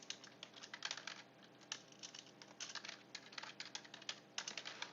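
Rapid, uneven keystrokes on a computer keyboard come in bursts and short pauses, close and fairly quiet, with no voices over them.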